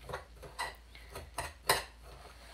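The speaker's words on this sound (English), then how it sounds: "So you just mix it roughly," Naan dough ingredients with coconut mixed roughly in a bowl, heard as several distinct clinks and taps of a utensil against the bowl, spaced unevenly and fairly quiet, with no voices.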